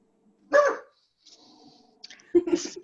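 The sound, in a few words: dog barking in the background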